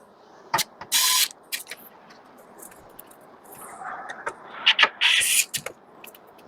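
A screwdriver turns motherboard screws into a PC case, giving quiet clicking and scraping bursts at close range in a still room.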